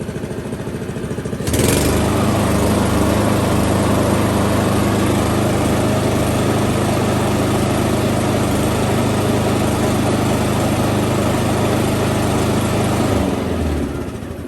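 A lawn mower engine that tends to surge at idle suddenly starts up loud and close, runs with a steady drone for about twelve seconds, then winds down near the end.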